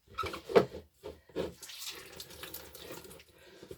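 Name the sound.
water squeezed out of soaked cardboard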